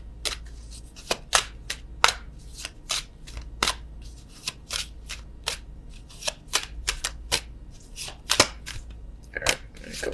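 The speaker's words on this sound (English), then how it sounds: "All right, so let's get a love oracle card." Oracle cards being shuffled and drawn during a love tarot reading, a steady run of crisp close-up card snaps and riffles repeating over about ten seconds, with no talking.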